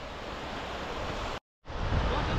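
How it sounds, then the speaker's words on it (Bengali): Sea waves breaking on the beach at Bokkhali, a continuous loud roar of surf with a brief cut to silence midway, then the waves resume, no talking. "কত সুন্দর ঢেউগুলো আসছে, কত সুন্দর"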